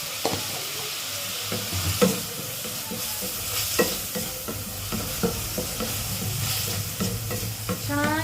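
Potato curry for aloo poori being stirred and fried in a pan: a constant sizzle broken by scattered scrapes and clinks of the spoon, close up, with no voices.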